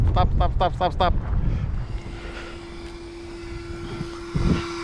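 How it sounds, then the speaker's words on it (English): A small electronic speed controller cooling fan on a Traxxas X-Maxx RC truck whirs with a steady thin tone, faint and continuous after some brief voice sounds at the start. "what you guys can hear is the ESC fan"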